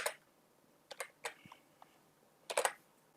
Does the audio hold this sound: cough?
no